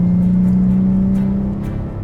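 A manual-transmission Porsche Cayenne driving under load, engine droning loud and close in a steady low tone that holds, then eases off as if for a shift, with no talking over it.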